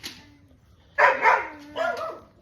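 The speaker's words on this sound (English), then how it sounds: "Dogs are being crazy with the neighbor dogs over there." Dogs bark at the neighbor's dogs: one short bark, then two louder bursts of barking a moment apart, fairly close and clear against a quiet background.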